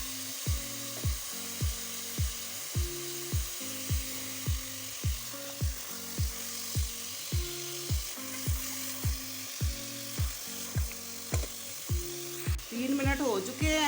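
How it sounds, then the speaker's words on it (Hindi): Goat trotters frying in a pan, a steady sizzle and crackle of hot oil joined by a regular series of knocking stirring strokes throughout. "और पाए भी हम 2 से 3 मिनट तक फ्राई करेंगे।"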